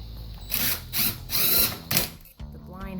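A power drill drives screws to fix a window blind bracket to a wall stud, whirring in several loud bursts with short pauses between, close by.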